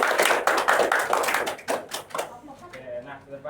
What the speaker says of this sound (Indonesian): Tepuk tangan dulu untuk Elsa.